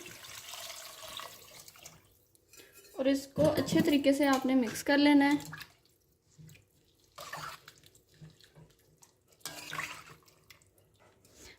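Water pours into a cooking pot of spiced beef stock for yakhni pulao, a short splashing burst of a couple of seconds in the middle, with someone speaking before and after.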